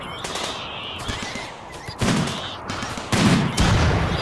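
Rapid bursts of gunfire in the colony-survival video game Rimworld, in the middle of a fight with a swarm of exploding rats in extreme cold; irregular volleys of shots, louder surges arriving near the two- and three-second marks.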